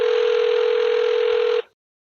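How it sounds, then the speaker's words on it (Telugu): A single steady electronic telephone tone sounds as a call is placed, holding evenly for about a second and a half before cutting off into silence. "కాల్ చేసేనండి, డైరెక్ట్గా మాట్లాడేద్దాం ఒక్కసారి"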